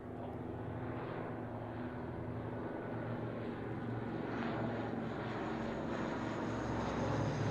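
Chipmunk training aircraft departing, a faint distant propeller-engine drone that swells slightly toward the end.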